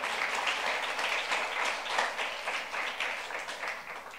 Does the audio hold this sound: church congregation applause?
yes